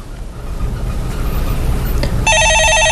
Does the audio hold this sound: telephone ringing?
yes